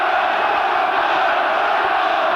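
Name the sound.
football stadium crowd roaring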